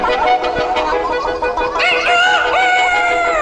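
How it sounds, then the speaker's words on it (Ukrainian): A rooster crows loudly and close by, with hens clucking and chattering around it throughout as they forage in grass. "Це півник горлястий, а біля нього курочки чубарочки вишукують серед трави поживу."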